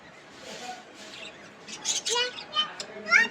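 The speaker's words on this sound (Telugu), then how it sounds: "ఆ పిచ్చుకలు దాని మాట వినట్లేదు అండ్ చాలా గొడవ చేస్తున్నాయని దాని బాధ" Sparrows kept on a rooftop terrace chirp noisily in quick, bright bursts that grow louder and denser toward the end, mixed with faint background voices.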